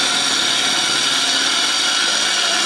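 A gouge makes a peeling cut into a soft maple bowl spinning on a lathe, a loud, continuous rushing whir of wood being shaved, steady and close throughout.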